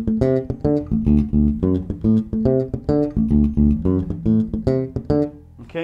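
A funky bass guitar arpeggio at full tempo, with quick muted ghost notes before each pitched note in a tight, driving rhythm, close and clear on its own.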